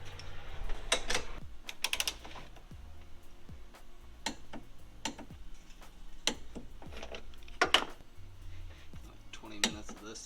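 A torque wrench set to 46 ft-lb tightens the strut bar nuts on a Honda Civic Type R, giving a steady run of crisp ratcheting ticks and sharp clicks up close over a faint background hum.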